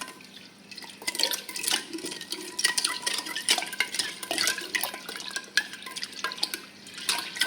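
A wooden ladle stirs grape wine in a pot, giving soft liquid sloshing and drips with scattered light knocks against the pot, close and quiet.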